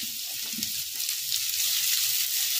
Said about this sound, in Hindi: चलिए अब हम इसमें डाल देते हैं ये बारीक कटा हुआ प्याज